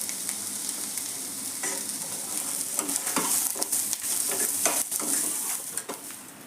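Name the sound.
sautéing onion poha with peanuts in a pan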